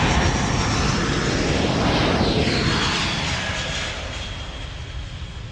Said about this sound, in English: With that Royal Canadian Air Force fabulous C-17.